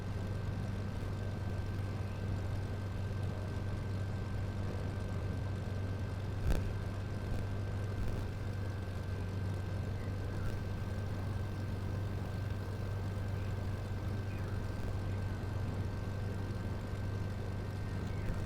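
Airplane taxiing in Microsoft Flight Simulator 2024: a steady, droning engine rumble that holds level throughout, with one faint click partway through.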